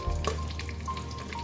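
Long thin-sliced onions fry in a pan of oil with curry leaves and green chillies, a steady close sizzle with a few stirring scrapes.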